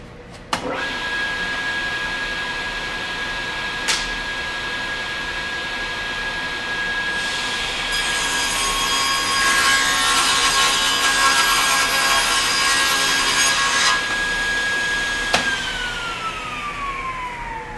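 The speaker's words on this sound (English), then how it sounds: "I'm going to make sure that I go and cut again, making sure that I put the flat side of the board" A table saw rips a wooden board into strips, the blade whining steadily and loudly as the cut runs through the wood, with a thump at the start and the motor spinning down at the end.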